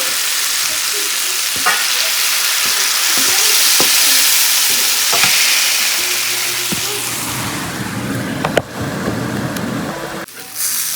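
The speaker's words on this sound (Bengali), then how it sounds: "সেই তেলের মধ্যে জিরে, শুকনো লঙ্কা আর তেজপাতা ফোড়ন দিয়ে এর মধ্যে যে মশলাটা করে রেখে দিয়েছি এই মশলাটা দিয়ে দেবো।" Cumin, dried chili and bay leaf tempered in hot oil with a spice paste added, giving a loud, steady sizzle and hiss throughout, broken by scraping stirs and a few sharp clatters of the spoon against the pan.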